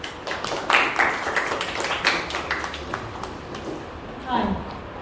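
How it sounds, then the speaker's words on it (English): Scattered audience clapping at a farewell event for a young brigade team, a round of crisp, uneven claps rising and fading over several seconds beneath ongoing talk and room murmur. "Round of applause, please."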